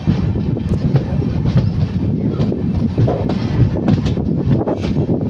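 The Mandvi Express on the Konkan Railway rolls along with a steady rumble, rhythmic wheel clatter and wind buffeting, heard close from on board with no talk.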